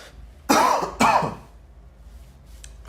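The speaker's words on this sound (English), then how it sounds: "trademark cough at this point." Two sharp, loud coughs about half a second apart from a lecturer mid-talk, followed by quiet room tone.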